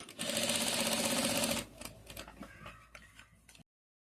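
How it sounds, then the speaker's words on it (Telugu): A sewing machine runs in a fast, loud burst of stitching along a blouse border corner, then stops, leaving quieter handling noises and faint clicks. "ఇప్పుడు ఇక్కడ కూడా నేను కార్నర్కి దీనికి కూడా కుట్టు వేసేసుకుంటున్నాను"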